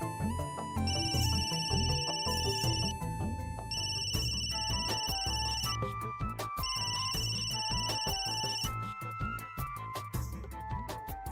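A phone rings with an incoming call, its ringtone melody repeating in bursts over a steady background of music, loud and continuous with no talking.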